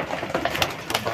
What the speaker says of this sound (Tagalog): Gutom na gutom guys ng ibon natin